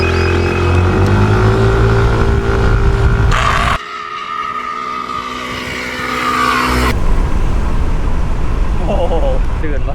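A Yamaha X-Ride 125cc motorbike accelerates hard during a 100 m speed run, its loud engine whine climbing in pitch, briefly dropping away, then roaring back up close.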